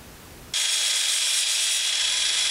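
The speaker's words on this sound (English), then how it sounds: "I pull it up tight with the impact wrench." A power tool starts abruptly and runs as a loud, steady, high-pitched whir, close up, on a benchtop router table build; an impact wrench drives a bolt into a router faceplate.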